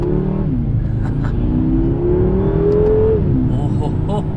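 A BMW M6 Gran Coupe's engine pulls hard and rises in pitch as it accelerates toward 5,000 RPM, a loud, smooth drone heard from inside the car, with the driver talking over it.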